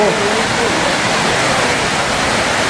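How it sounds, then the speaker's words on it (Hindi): Heavy rain pouring outside during a village stay in the jungle, a loud dense steady rush of water without pause, with dripping folded into the constant wash. "ये पानी टपकने लग गया और यहाँ भी इतनी ज़्यादा बारिश लग गई है बाहर"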